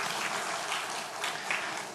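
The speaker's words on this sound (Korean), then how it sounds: "다시 한번 박수 쳐주시겠습니까?" A church congregation at a children's Sunday service claps together, a soft, even spread of many hands that continues for the whole stretch at moderate distance.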